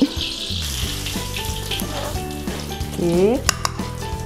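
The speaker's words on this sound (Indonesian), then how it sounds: "Lepas tu kita goreng belacan sekejap." Belacan shrimp paste frying in a pan gives a steady close sizzle with stirring scrapes and clinks, and a voice speaks briefly near the end.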